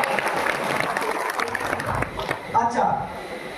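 An audience claps loudly at a shopping cashback event, a steady wash of applause lasting a few seconds under someone talking.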